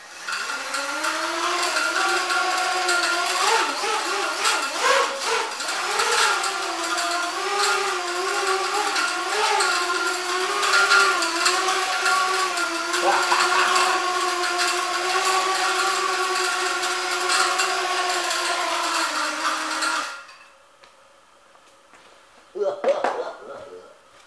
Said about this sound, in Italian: Sentite le eliche che si toccano.